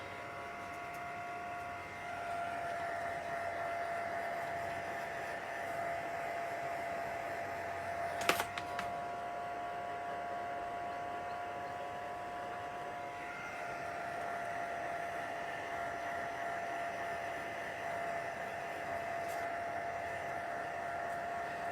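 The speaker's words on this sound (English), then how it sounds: "This is on setting 1 of my heat gun." A heat gun on its lowest setting blows steadily to dry damp watercolour card, a continuous airy whir with a faint tonal hum, broken briefly by a single sharp click partway through.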